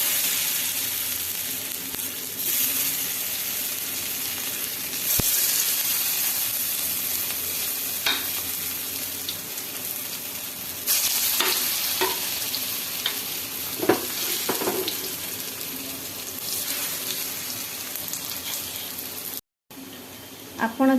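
Colocasia leaf vadas frying in hot oil in a pan give a steady loud sizzle throughout, close by, with occasional clinks and scraping of a utensil in the pan.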